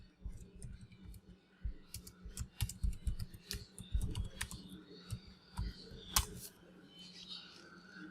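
Quick, close keystrokes tap out a document status on a computer keyboard in Microsoft Word, irregular bursts of soft clicks with a few sharper key hits, quiet and alone without talking.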